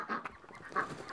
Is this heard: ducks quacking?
yes